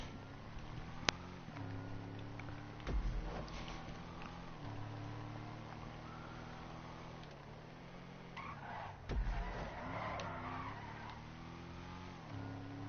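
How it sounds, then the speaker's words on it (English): A Drift Yosemite car in GTA Online drives and drifts, with a steady engine drone and swells of skidding tire noise. The sound is moderate and continuous, with no talking. "Probably turns a little more than it should have, but like I said, it's a drift vehicle."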